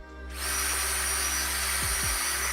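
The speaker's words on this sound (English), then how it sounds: "I need to drill this handle a little bigger so it'll fit into the blade" A power drill enlarging a hole in a knife handle during a timed knife-making challenge. It spins up quickly into a loud, steady whine that holds for about two seconds, close by and alone.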